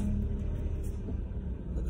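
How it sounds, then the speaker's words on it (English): A car engine rumbles steadily and close by at a low, even level, with no talk over it. "My car sound."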